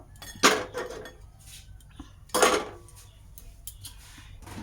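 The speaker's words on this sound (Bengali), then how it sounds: "গ্যাস অন করেছি, কড়া বসাবো" A metal wok (kadai) set down on a gas stove gives two distinct clanks about two seconds apart, with faint scraping and handling noise in between.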